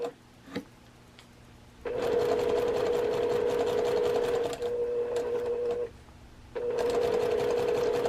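A sewing machine stitches quilt block pieces in short runs of steady, fairly loud whirring, stopping and restarting between bursts, with no talking.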